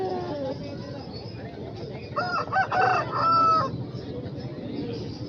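An Aseel rooster crows once, fairly close, at a busy open-air poultry market in Tando Adam. Crowd chatter and market noise run underneath the crow.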